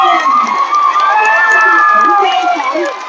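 Spectators at a U21 world championship beach volleyball match cheer and shout together, a loud, close crowd of overlapping voices that holds steady before easing slightly at the end.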